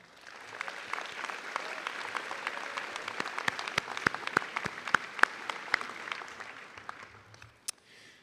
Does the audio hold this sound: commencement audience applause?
yes